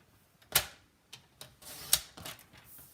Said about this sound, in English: Okay, so we're going to cut this at 4 inches by 5 1/4.